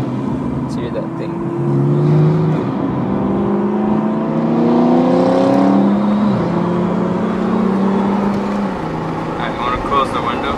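A car engine revs as the driver gives it gas, rising and falling in pitch through several strained climbs, loud and close, with people talking over it.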